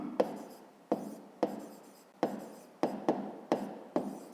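Pen strokes on paper during a fifth-grade maths exercise come as a series of about nine short scratchy bursts, each starting sharply and trailing off, close and quiet with no voice.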